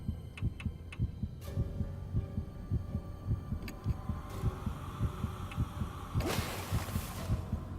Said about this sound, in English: it's the heartbeat in the background